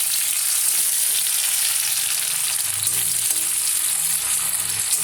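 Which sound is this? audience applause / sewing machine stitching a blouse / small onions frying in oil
small onions frying in oil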